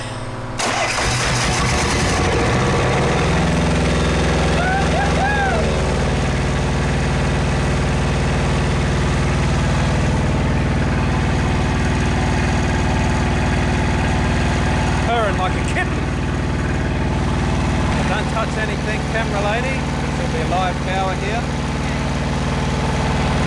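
A portable generator starts up and then settles into a loud, steady idle with no load attached, its engine hum continuous and close throughout.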